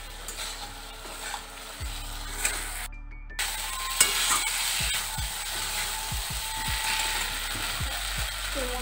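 Pointed gourd being stirred and fried in a pan for potol posto, with a steady sizzle under repeated scraping and clacking strokes of a spatula, close and moderately loud.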